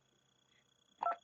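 Office desk phone keypad dialing extension 203, short electronic touch-tone beeps close and clear after a near-silent pause, under a faint steady hum.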